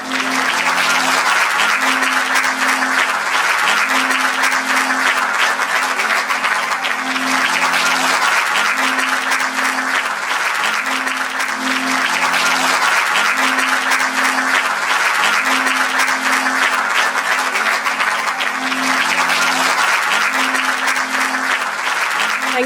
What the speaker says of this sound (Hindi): एक बार जोरदार तालियां हो जाए आप सभी की।